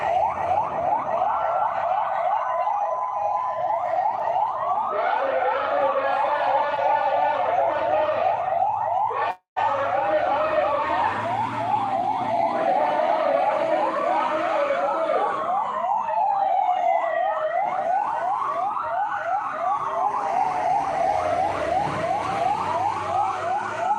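Fire engine sirens wail in rising and falling sweeps as the trucks rush to a fire on Jl. Andi Tonro, loud and sustained with overlapping tones and a brief cut partway through, under faint traffic.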